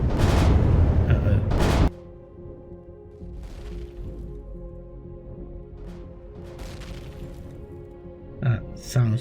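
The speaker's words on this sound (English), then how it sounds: "That sounds like this one is blowing up." In the space game Empyrion, a loud blast opens with a burst of booming noise that cuts off abruptly, followed by a quieter low rumble with scattered distant cracks and thuds.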